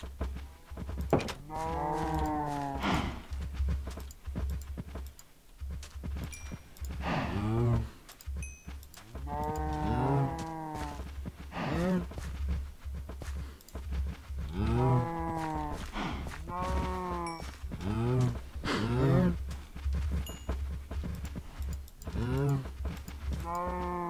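Cows in Minecraft moo repeatedly throughout, a steady run of harmonic bovine calls over a constant low game hum, with some loud, close and others softer.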